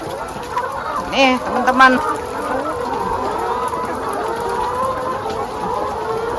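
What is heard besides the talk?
red laying hens clucking at an egg farm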